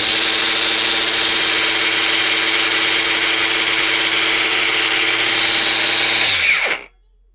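A Bosch GWX18V-13CN cordless angle grinder runs at a loud, steady high-pitched whine close by for several seconds, then its brake engages and the motor drops abruptly to silence.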